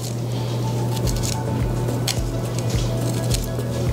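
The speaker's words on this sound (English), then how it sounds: "With my knife pointed down towards the body, I'm just gonna lift this fillet and gently cut the meat away" A knife slices meat away from the bones of a pompano fillet in a series of soft, close, wet squishing cuts over a steady low background hum.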